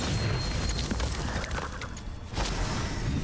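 Spell impacts in a Hogwarts Legacy duel, where Descendo and Confringo are being cast: a steady run of booming, crackling blasts and bursts, loud and dense with a brief lull before another heavy hit.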